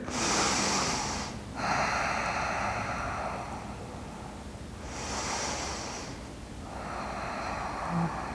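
Slow, deep yoga breaths during a guided floor practice, with a long airy inhale and exhale, a pause, then another full breath cycle, close and steady with no talking.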